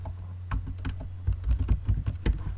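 Keys clatter on a computer keyboard as a short terminal command is typed, irregular close clicks in small bursts over a steady low hum, with no voices.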